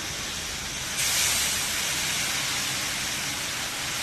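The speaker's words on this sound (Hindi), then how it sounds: "मिक्स करने के बाद हम इसमें ऐड करेंगे चिकन स्टॉक।" Chicken stock poured into a hot pan of Chicken Manchurian gravy and vegetables, giving a steady broadband sizzle that swells suddenly about a second in and then holds at a constant loud hiss.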